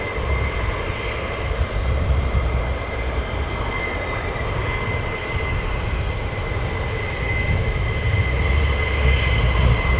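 Military jets of Flight Claw, the 494th, taking off at RAF Lakenheath: a loud, continuous broadband engine roar that holds steady and swells slightly toward the end, with no talking.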